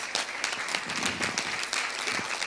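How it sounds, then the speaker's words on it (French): An audience at a forum awards ceremony applauds prize winners, lively dense clapping swelling and dipping slightly, with no voices over it. "Je pense qu'on peut les applaudir bien fort"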